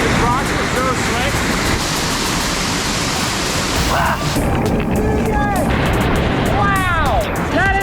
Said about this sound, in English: This waterfall looks a lot colder than it actually is.